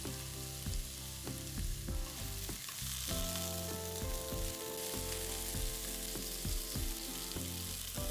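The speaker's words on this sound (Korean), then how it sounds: "남은 기름에 표고를 볶다가 소금도 한 꼬집 뿌려주고" Shiitake mushrooms stir-fry in leftover oil in a pan, giving a steady close sizzle and crackle with repeated scraping stirs throughout, with no voices.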